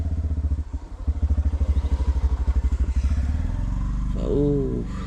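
A motorcycle passes along a forest track in Jim Corbett National Park, its engine thumping in a rapid, loud pulsing beat that rises as it nears, then a rising rev near the end while a person talks nearby.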